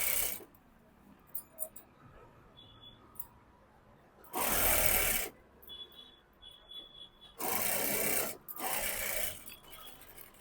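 A sewing machine runs in two short bursts, stitching straight-cut trousers; each run lasts about a second or two, loud and close, separated by quiet handling noises and faint clicks.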